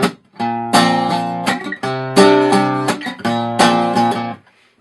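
Acoustic guitar strumming the bridge chords of a song, a live version, in several ringing sustained chord blocks separated by brief breaks, loud and close with no voice.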